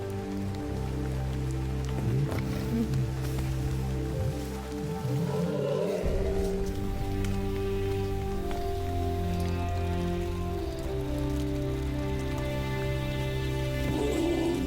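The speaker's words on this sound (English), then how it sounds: "Playing in the rain, their spirits remain undampened." Steady rain patters on surfaces throughout, a dense continuous hiss with a few faint knocks and shifting tones in the background.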